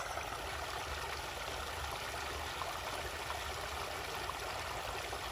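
Steady rushing water flows continuously into a rice paddy, a broad even wash of sound with no pauses, fairly close and moderately loud.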